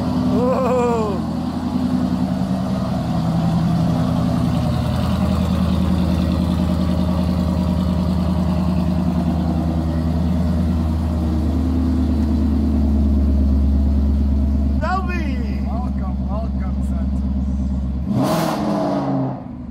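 A 2017 Shelby Mustang engine rumbles at a deep, steady idle throughout, with a few brief rises in pitch suggesting light revs and a sharp noise near the end.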